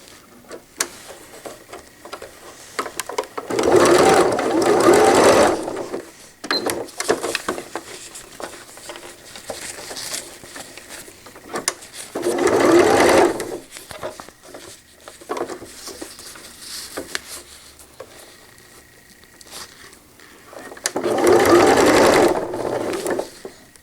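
A sewing machine stitches a cloth diaper cover with gussets in three short bursts of rapid whirring, separated by quiet pauses filled with fabric handling and small clicks.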